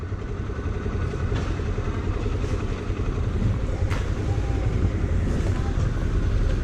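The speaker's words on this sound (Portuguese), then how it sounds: "eu tenho que desligar a porra da moto" Motorcycle engine idling at a gas station, a steady low rumble running throughout under wind noise and a voice.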